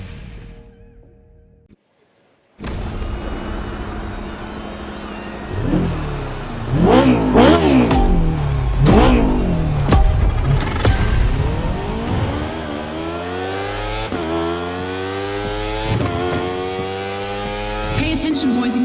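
Racing motorcycle engine in The Crew Motorfest, part of a Red Bull Speed Clash event, revving and climbing through gears with repeated rising whines, loud and close after a brief quiet start.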